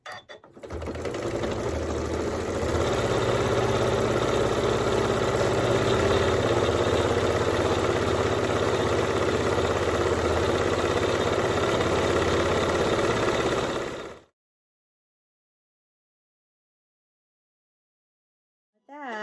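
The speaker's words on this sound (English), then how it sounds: "And I'm just going to start sewing right down this edge." A sewing machine stitches along the edge of a fleece scarf, a continuous close mechanical whir running for about fourteen seconds before stopping, followed by silence.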